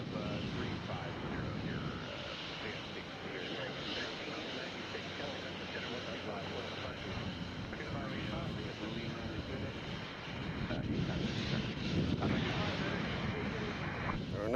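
A Southwest Airlines plane departs Nashville International Airport as a distant, steady broadband roar that lasts the whole time and swells toward the end, mixed with wind noise.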